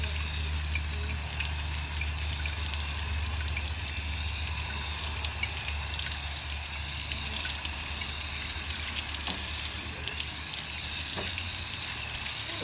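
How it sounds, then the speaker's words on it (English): Gentle, continuous hiss of water sprinkled over freshly potted bonsai trees in pumice and moss, a soft rain-like patter and trickle that stays steady and fairly faint for the whole stretch. "settling the trees in through a gentle watering"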